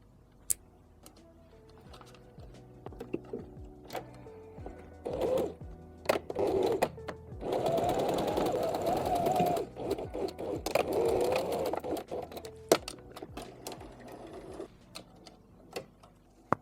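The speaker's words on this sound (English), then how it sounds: "all I'm going to do is I'm going to sew a narrow zigzag stitch from this corner up to this corner" A sewing machine sews a narrow zigzag stitch along a T-shirt strip, with scattered clicks and handling ticks, then a few bursts of fast, whirring stitching in the middle, close and clear.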